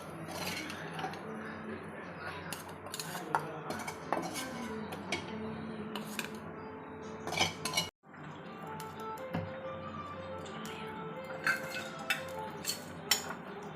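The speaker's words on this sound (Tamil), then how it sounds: "தேங்காய் சீரகம் போட்டு ஒரு கிண்டு கிண்டி இறக்கிடுவேன்" A spoon scrapes and clinks against a metal cooking pot as grated coconut and cumin are stirred in a home kitchen, scattered close taps and knocks with a short pause midway and no talk.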